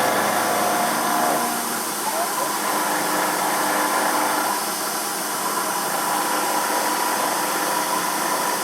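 An Emco F1 CNC milling machine cuts a model engine pan with the spindle at 1500 RPM, producing a steady, loud, high-pitched machining whine with a constant hiss that stays even throughout.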